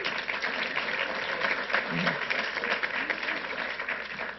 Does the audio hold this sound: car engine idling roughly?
no